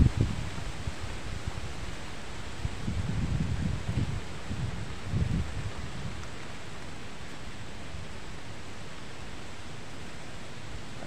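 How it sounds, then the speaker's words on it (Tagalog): Strong typhoon wind rushes and rustles through banana leaves in a broad, steady roar, with heavier gusts buffeting the microphone early on before settling into a constant hiss. "Lakas talaga ng hangin."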